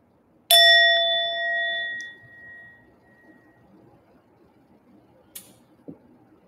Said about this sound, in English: I'll ring my little bell.